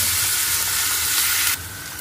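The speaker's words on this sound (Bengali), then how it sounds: "এইটা আদা রসুন দিয়ে একটু নেড়ে নিচ্ছি।" Onions fry with ginger and garlic paste in a pan, a loud continuous sizzle and hiss close up, stirred steadily, the sound dropping slightly in intensity toward the end.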